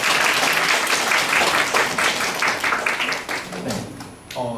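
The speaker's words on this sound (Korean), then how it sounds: "큰 박수 다시 한번 부탁드립니다." A crowd applauds steadily at a university graduation ceremony, dense clapping filling the room, thinning toward the end as a voice begins to speak.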